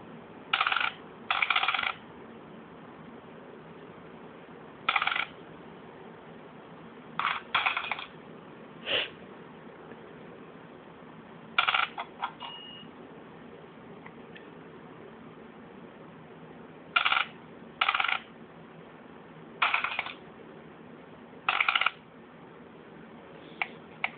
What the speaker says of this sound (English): if you push one of those special coins off, then it will fall into